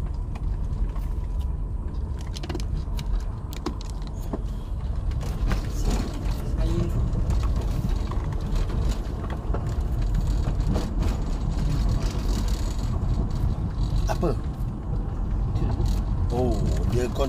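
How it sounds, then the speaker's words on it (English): A tractor keeps working near a roadside graveyard in rural Malaysia on a rainy evening, its continuous low engine rumble mixing with rattles and road noise, with a few faint background sounds over the top. "Tractor still working."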